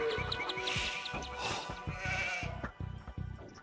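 Sheep bleat in Age of Empires II, several short nasal calls in quick succession against a busy game backdrop of clicks and tapping, fairly near and moderately loud.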